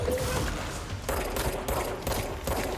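Rapid automatic gunfire in the video game Control, a dense continuous fusillade of shots rattling close and loud throughout.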